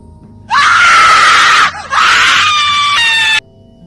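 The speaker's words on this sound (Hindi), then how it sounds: "अचानक किसी औरत की जोर जोर से चिल्लाने की आवाज आने लगी" A woman screaming loudly as a horror-story sound effect, two long, piercing shrieks close up, the first held for over a second, then a brief break before a second sustained scream.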